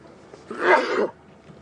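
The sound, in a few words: sneeze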